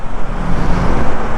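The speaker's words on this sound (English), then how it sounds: "as you can see, traffic's all the way in." Dense early-morning road traffic in Davao City, Philippines, near SM Lanang: a loud, continuous rumble of car and vehicle engines close by, with no clear gaps.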